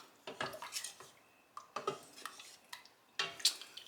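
A spoon stirs pectin into chokecherry syrup in a metal pot, a string of quiet, close clinks and scrapes against the pot in an uneven rhythm.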